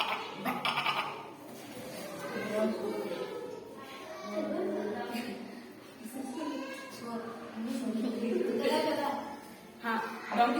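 A school student imitates a goat's bleat several times in a row, voiced bleats spread across the clip with other children's voices audible around them.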